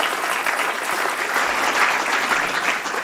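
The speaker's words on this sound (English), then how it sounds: "It's even worth a small applaud" An audience at a sustainability event gives a short burst of applause, dense and steady clapping at even loudness with no voices over it.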